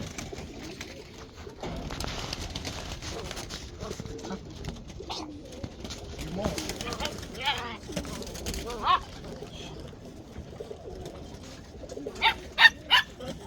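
Roller pigeons give soft, repeated cooing, and a few sharp flapping or rustling bursts come near the end as the birds are let out of an opened box. People talk faintly nearby.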